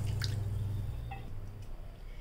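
Washed toor dal with its soaking water is poured into a pressure cooker, giving soft wet splashes and drips over a steady low kitchen hum.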